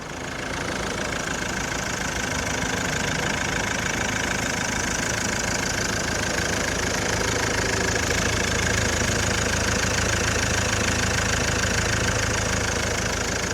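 A van engine idles steadily after a service, a close, continuous mechanical hum and rattle that holds an even level throughout with no talk.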